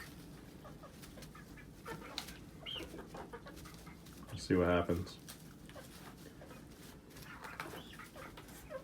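Several backyard chickens cluck in short bursts, with one louder squawking outburst near the middle, under a voice talking close by.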